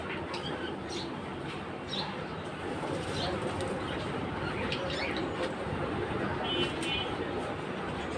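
Sirazi fancy pigeons flutter and flap their wings after a bath, producing soft, scattered bursts of flapping over a steady background hiss, fairly close and moderately quiet.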